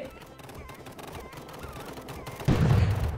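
Rapid gunfire in an online multiplayer hide-and-seek video game, a dense busy stream of game shots and effects that jumps sharply louder in the final second, with no talking.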